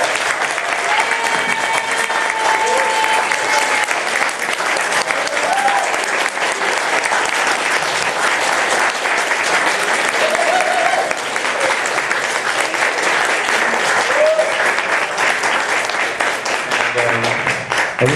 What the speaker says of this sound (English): we should give our guest panel a great round of applause